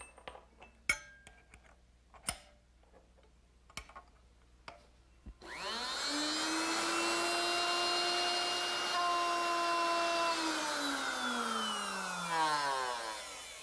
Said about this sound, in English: now I can replace this straight cutter with the dovetail bit, and that should make it a lot easier to cut